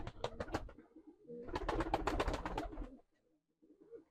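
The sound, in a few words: pigeons cooing in a pigeon coop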